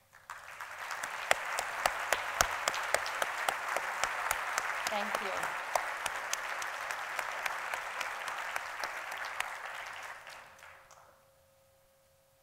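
A faculty convocation audience breaks into loud, sustained applause lasting about ten seconds before fading out, with a brief spoken thank-you in the room.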